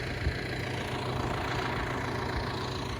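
A John Deere 6105R tractor fitted with a snow blower, its engine running with a steady low rumble and even knock, close and continuous for the whole stretch.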